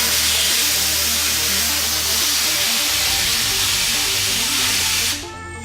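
Loud, steady blast of compressed air hissing against a metal fidget spinner, a broad roar with a rising whir underneath that cuts off near the end.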